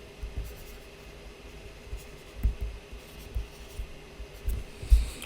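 Marker or chalk writing on a board during a chemistry lesson, with faint, intermittent scratches and taps of the pen against the surface over a quiet room hum.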